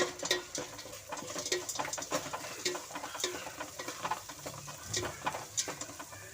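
Onions frying in hot tempering oil for curd rice, a faint, steady crackling sizzle with light patter and stirring, no voice over it.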